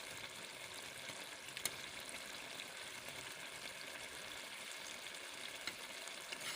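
Potatoes fry in oil in a pan for an egg-and-potato curry, a quiet, steady sizzle with an occasional crackle and pop, heard close with no voices.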